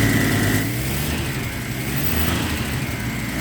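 An all-original 1951 Chevy 3100 pickup engine idles nearby, a steady low rumble with no misfires and a slight pitch dip early on.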